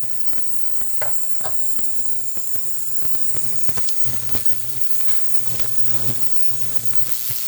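Harbor Freight ultrasonic cleaner, heated, cleaning a gun: a steady hiss over a low, constant hum, peppered with faint crackles and clicks, close and continuous.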